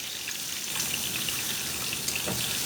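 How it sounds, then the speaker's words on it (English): Turnips and onions fry in a pan, a steady hiss of fine crackling sizzle that holds evenly throughout with a few brighter pops near the end, close and moderately loud with no voices. "You gotta fry you some turnips and onions if you want it to be keto."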